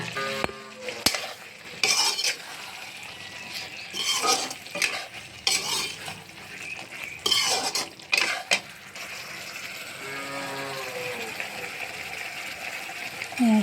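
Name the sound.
jackfruit, potato and sweet potato stir-frying in pan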